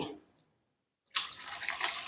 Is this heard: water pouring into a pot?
yes